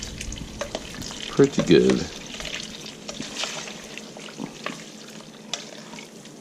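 Pork fat bubbling and sizzling in a pan while rendering lard, with bits of meat cooking down; a steady close crackle with a brief louder burst near the start and a short spoken comment.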